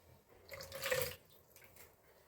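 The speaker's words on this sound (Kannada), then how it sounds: "ನಾನು ಸ್ವಲ್ಪ ನೀರು ಸೇರಿಸ್ತೀನಿ." Water is poured briefly into a yogurt and masala mixture for Mangalore cucumber tambuli, a soft trickling splash that rises for about half a second and then fades, quiet and close, with no talk.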